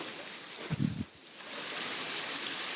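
Soft, steady rain hiss in the zoo-building game Planet Zoo during its August rainy season, quiet and even throughout, with a brief low thump-like sound near the start.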